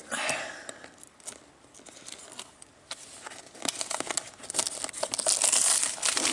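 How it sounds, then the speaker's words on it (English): An Auscision Models Vinelander sleeper car is unwrapped from crinkly plastic packaging, with close, loud crumpling and tearing that swells toward the end. "let's just get this one out of the packaging"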